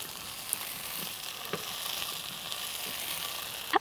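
Egg 65 with coriander leaves fries in a pan while being stirred, giving a continuous close sizzle with a few light clicks and scrapes, ending on a sharper knock.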